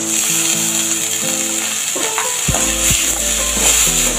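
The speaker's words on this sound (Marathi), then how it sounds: "मग नंतर मुगाची डाळ टाकायची भिजवलेली।" Soaked moong dal being sautéed with green chillies in a hot pan, giving a loud close sizzle with occasional clinks and scrapes of the stirring spoon and a low hum in the background.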